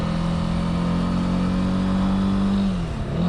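Close, loud engine drone from a Honda CB300R motorcycle accelerating, its pitch slowly climbing before falling off as it changes up into a higher gear, with no voices over it.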